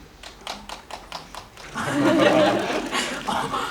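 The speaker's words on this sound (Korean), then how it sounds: "언제까지 박수를 유도하는지 보겠어요" Applause breaks out from an audience at a film talk event for the movie Cabriolet, a scattering of claps and chuckles first, then a loud sustained burst of clapping that tapers off near the end.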